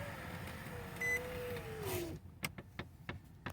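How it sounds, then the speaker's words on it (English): A car's electric power window motor whirs as the glass winds up, a rising hum lasting about two seconds before it stops, followed by sparse, faint clicks and road sounds. "I'll put the window up though."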